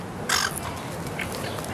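Gull calls at PAX Australia 2014, a short harsh squawking burst near the start followed by a fainter cry, over steady outdoor background noise.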